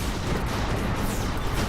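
Rapid, dense gunfire fills the indie shooter Molemen Must Die, a loud unbroken barrage of shots and blasts that sounds close and constant throughout.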